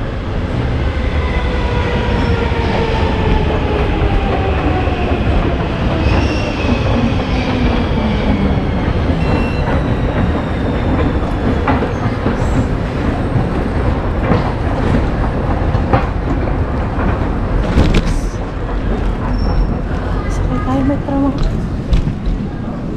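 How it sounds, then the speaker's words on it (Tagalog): A metro train ride heard from inside the car, with a loud continuous rumble, rhythmic wheel clatter and faint squeals of wheels and brakes throughout. "Sakay tayo ng metro papunta ng Ontola."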